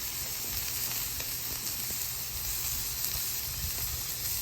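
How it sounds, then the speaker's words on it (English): Mushrooms sizzle steadily on a hot flat-top griddle for beef stroganoff, a continuous close hiss with no talking. "So what I'm actually going to do first is add the mushrooms first"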